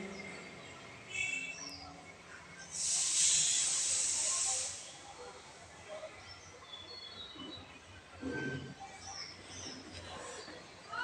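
A burst of loud hissing sizzle from potatoes frying in hot oil in a pan, in a home kitchen where prawn-head fritters are also being made; the sizzle swells for about two seconds, then settles into quieter crackling and faint background noise.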